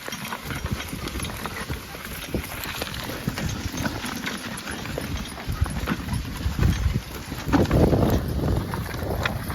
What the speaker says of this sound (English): You're driving horses, getting exercise, tilling the soil, Nick.